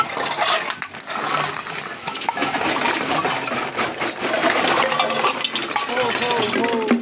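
Metal cans clink and rattle in quick, scattered bursts as they are handled among plastic scrap on a subdivision street. The sound is fairly busy and close, with a person talking over it.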